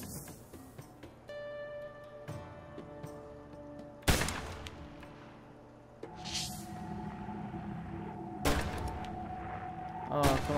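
Gunshots in Assassin's Creed Chronicles India, a few sharp loud cracks spaced several seconds apart, mixed with sustained in-game music and ambience.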